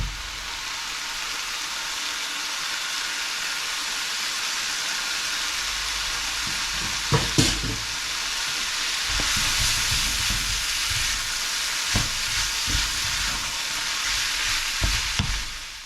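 Noodles stir-fry in a hot pan with a loud, continuous sizzle, broken by occasional clanks and scrapes of stirring that grow busier toward the end.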